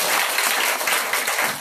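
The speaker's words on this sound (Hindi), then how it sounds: "इनके लिए ताली बजाओ जोर से" An audience at a religious discourse gathering claps loudly and continuously, a dense, steady burst of applause with no talking over it.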